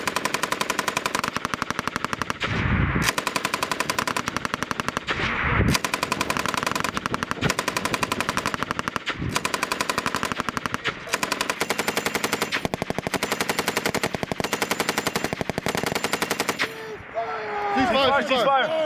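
Sustained machine gun fire during a Marine battle drill, loud continuous bursts of rapid shots for most of the clip, with shouted voices under the gunfire and a brief pause near the end.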